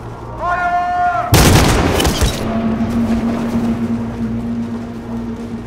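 Gunfire at protesters in the Detroit: Become Human video game: a sudden loud volley of shots erupts after a rising tone, then decays into a lingering rumble and steady hum, with shouting voices around it.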